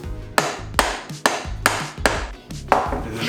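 A heavy Stanley Jr. hammer struck repeatedly during a father-and-daughter calendar build, seven sharp, evenly spaced blows ringing out close and loud with no talking.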